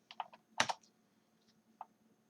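Fingers tap a computer keyboard in a short, quiet burst of several keystrokes, a brief cluster and then a couple of sparse clicks, close and alone.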